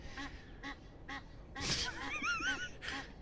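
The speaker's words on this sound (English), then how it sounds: "this duck is aggressive" A duck quacks repeatedly in short, loud, harmonic bursts, growing busier and overlapping toward the end, close and clear with no talk.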